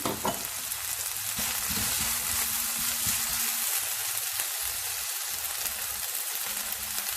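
Three chopped green chilies fry with mushrooms in a pan, giving loud, continuous close sizzling with stirring scrapes mixed in throughout.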